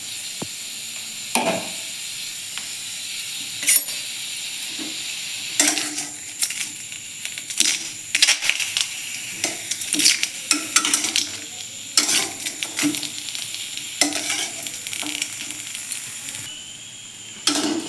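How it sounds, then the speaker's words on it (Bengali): Two dried chillies and garlic frying in oil in a wok for a chutney, with a soft steady sizzle under repeated scrapes and clinks of a spatula on metal. "তেল দিয়ে নিই বন্ধুরা, 2টো শুকনো লঙ্কা"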